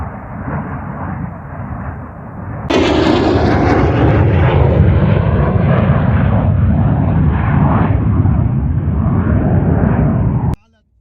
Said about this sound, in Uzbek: Bu qiruvchi samolyotlar haftada ko'p marotaba biz tepamizdan uchib o'tadi.